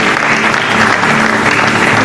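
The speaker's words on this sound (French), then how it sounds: "On acclame très fort Jésus-Christ." A church congregation at a Sunday service claps loudly and steadily for Jesus Christ, a dense continuous wash of applause that fills the whole stretch with no break.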